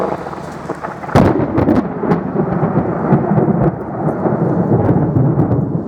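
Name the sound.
thunderstorm with thunder and rain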